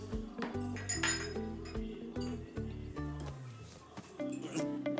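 Cups and dishes are cleared from a table, with bright clinks of glass and ceramic knocking together several times, close and fairly clear over a tonal music background.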